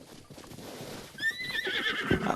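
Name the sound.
horses neighing and hooves in Zelda: Breath of the Wild video game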